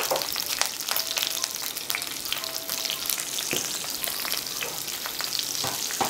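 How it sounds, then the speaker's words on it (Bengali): Cubed onions fry in oil over a medium flame, giving a constant, close crackling sizzle with small pops and scattered stirring scrapes throughout, with no talking. "পেঁয়াজগুলো একটু ভেজে নেব"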